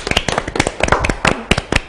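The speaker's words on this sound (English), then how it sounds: "Give yourselves an applause." A class of students clapping together in a classroom, a brief scattered burst of hand claps, close and fairly loud, with voices mixed in.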